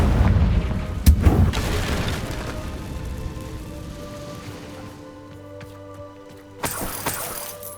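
Fire spell explosion in Hogwarts Legacy, a heavy boom followed by a crackling, rumbling decay that fades into a low hum, then a second burst of crackle near the end.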